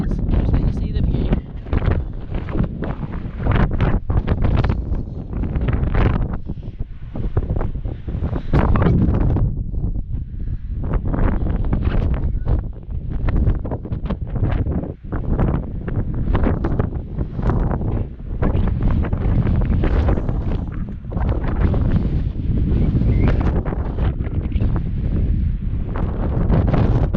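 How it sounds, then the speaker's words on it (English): Strong wind roars across a microphone at the top of a cable car in Scotland, a continuous loud buffeting with gusty surges and no letup throughout. "I won't say much because of how windy it is."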